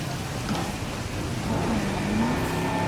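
A car drifting in the park-management game Jurassic World Evolution, heard as a steady, rising in-game engine drone with tyre squeal near the end, continuous and fairly loud with no talk.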